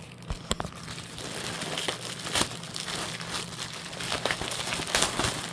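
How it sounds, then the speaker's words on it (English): Plastic crackling and crinkling continuously, with sharp tearing snaps scattered throughout as a bag is ripped and crushed at a moderate distance. "you get to hear the sounds of destroying plastic at a distance"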